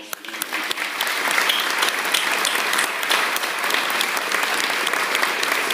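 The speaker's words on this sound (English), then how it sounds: "What about a round of applause for them?" A crowd at a Veterans Day ceremony at the Neshoba County Fair gives soldiers standing in the rain a loud, steady round of applause, dense and sustained throughout.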